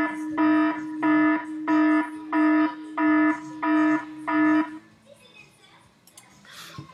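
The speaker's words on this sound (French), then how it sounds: "par exemple, ça sera une alarme" A fire-alarm-style sound effect added in iMovie beeps seven times in a steady, evenly spaced rhythm, loud and tonal, then stops and leaves faint background noise.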